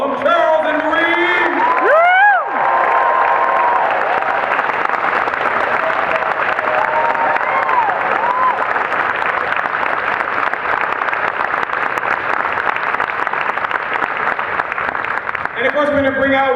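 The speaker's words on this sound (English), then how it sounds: "Just give a nice round DragonCon applause to Charles and Marie" Sustained applause and cheering from a large DragonCon convention audience, loud and continuous, with scattered whoops and shouts rising above the clapping.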